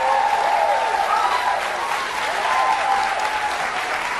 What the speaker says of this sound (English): But let's listen to this fake ass crowd a little bit.